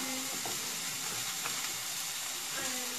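Garlic sizzles in a pan alongside shallots, producing a continuous close hiss with small pops and crackles throughout.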